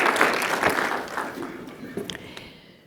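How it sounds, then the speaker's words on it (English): Conference audience applause swells briefly and then thins out, a few last scattered claps trailing off into quiet. "I hope everyone can really thank you with a round of applause for your contribution and what you shared"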